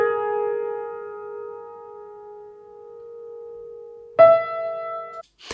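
A sampled piano tone is played back in a sound-processing setup, a single sustained note slowly decaying for about four seconds before a brighter second note strikes and holds briefly, then cuts off into a short noisy burst.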